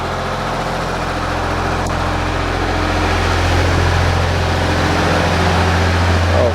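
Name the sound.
diesel engine running at max RPM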